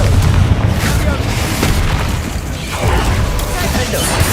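Booming fire-spell blasts in the Hogwarts Legacy video game, a dense run of heavy, rumbling explosions and impact bursts packed closely together, loud and continuous, with a voice calling out spell names.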